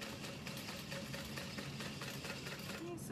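A sewing machine runs faint and continuous while back stitching a bucket bag seam, a steady low mechanical hum with rapid needle rhythm throughout.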